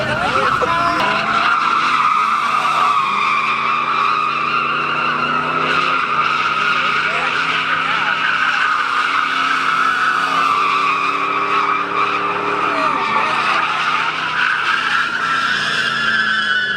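Trucks drifting with tires squealing and skidding continuously, a loud sustained screech over revving engines with people's voices audible under the noise throughout.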